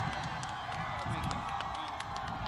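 At a Pakistan Tehreek-e-Insaf rally at Sargodha University, an audience applauds and cheers in a dense, continuous burst of clapping with scattered whoops, brief and somewhat distant.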